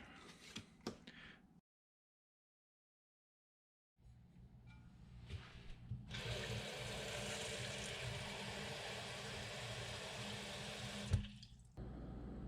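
Water poured from a tap into a bowl for pancake mix, a steady rushing splash lasting several seconds after some brief handling noises and a short silence, ending with a knock.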